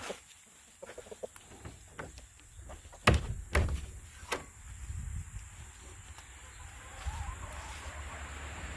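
A chicken coop door, on a coop built from a fallen barn, is opened with a few hollow wooden thunks and knocks while hens cluck softly nearby in a quiet outdoor setting.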